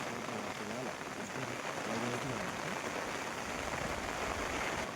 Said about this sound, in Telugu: ఇప్పుడు కనిపిస్తుంది కదా మీకు రెయిన్ఫాల్ అనేది ఎలా పడుతుందో